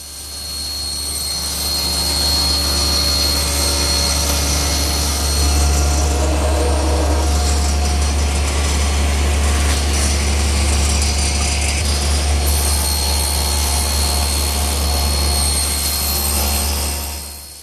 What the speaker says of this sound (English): now I'll square one end and cross-cut it to length.